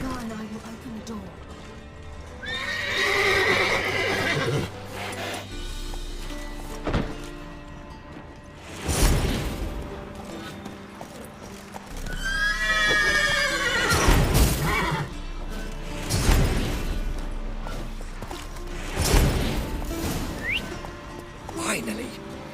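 Several loud horse whinnies ring out one after another in The Witcher 3: Wild Hunt, with hoof clatter and occasional thuds in between, all under a busy murmuring background.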